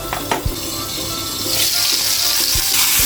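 Stuffed brinjals cooking in oil in a covered pan, a steady soft sizzle and hiss that grows louder, with a few light clinks near the start.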